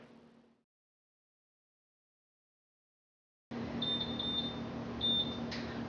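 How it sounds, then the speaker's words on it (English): An oven timer goes off with a run of sharp, high electronic beeps in a kitchen while granola bakes at 350 degrees, sounding over steady room noise after a stretch of silence. "So that's the timer going off to let us know that it's been in the oven for 10 minutes at 350 degrees."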